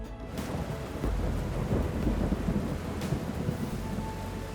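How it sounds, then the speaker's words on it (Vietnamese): Heavy rain pouring over a salmon river, with a loud rumble of thunder rolling in early and the steady hiss of rainfall continuing throughout. "Một cơn mưa đến thật đúng lúc."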